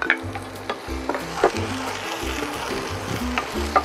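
Garlic and onion sautéing in olive oil, stirred in a pan: a steady sizzle runs throughout, with scraping stir strokes and a few sharp clicks of a utensil against the pan.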